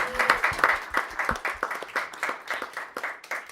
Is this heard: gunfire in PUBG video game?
no